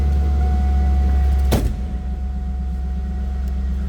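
A 2002 Chevrolet Camaro Z28 convertible engine, a steady low rumble broken by one sharp burst as it fires, then settling into an even idle, close and without talk.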